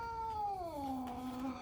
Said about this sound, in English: That's my cat hissing at the kitten.